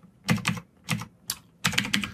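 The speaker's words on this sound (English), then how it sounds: "let me just type in a really quick code example here" Typing code on a computer keyboard, with four quick bursts of close keystroke clatter separated by short pauses, alone and with no talking.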